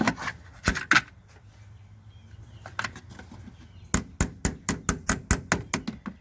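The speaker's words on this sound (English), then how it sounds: "Nobody laugh at my puny little hammer." A small hammer taps metal while an alternator is replaced on a 2010 Scion xD. Two sharp strikes come first, then a quiet pause, then a steady run of about a dozen crisp, close, ringing taps.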